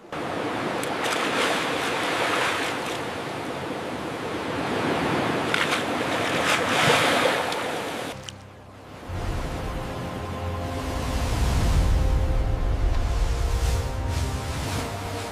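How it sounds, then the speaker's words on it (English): Waves crash and surge against a rocky shore, loud and close, with a rush of spray, a brief lull, then another heavy swell rolling in. "The crab is determined to escape the crashing waves and find refuge higher on the rock face."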